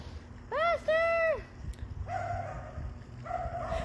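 Dogs bark in short bursts, two clear sharp barks near the start and more barks later, outdoors while children ride, with people talking in between.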